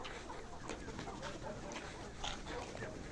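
Kazi Hylan breed layer hens in a farm batch of about 2000 birds cluck faintly and continuously as a crowded murmur in a noisy shed, with a voice occasionally present.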